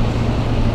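Deep, loud exhaust rumble from a V12 car engine, a steady low droning roar close by, with no talk over it.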